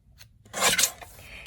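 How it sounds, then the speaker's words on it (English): Card stock being cut on a paper trimmer during card making: a brief, close rasping slide of the blade through the sheet, preceded by faint rustling. "I'm going to cut a little bit off the top here"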